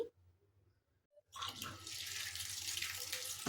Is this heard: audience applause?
no